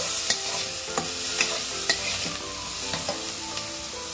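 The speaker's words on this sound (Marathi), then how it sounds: "थोडासा आपण कोबी घालायचा, तो पण छान त्याचा परतून मिक्स द्यायचा आहे" Shredded cabbage stir-fried and tossed in a pan, a soft steady sizzle broken by light scraping clicks of a spatula stirring at an irregular pace, fairly quiet with no talk.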